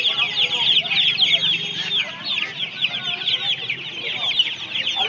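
Chickens cluck and squawk without pause at a crowded poultry market in Uluberia, many birds chattering densely and close, with market voices mixed underneath.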